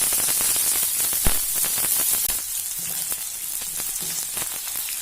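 Large onion, green chili and curry leaves fry in hot oil after mustard seeds have popped, giving a constant loud sizzling hiss with a few small pops and crackles.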